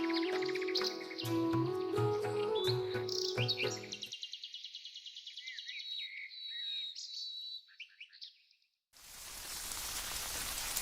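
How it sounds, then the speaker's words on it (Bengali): Heavy rain pours down during a stormy spell, arriving after a stretch of tonal music and scattered bird chirps; the rain is a dense, steady hiss filling the last two seconds, loud and close. "যে বৃষ্টি শুরু হয়েছে, জানি না কবে ছাড়বে।"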